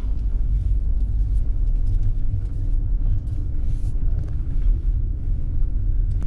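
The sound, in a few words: car driving on a beach run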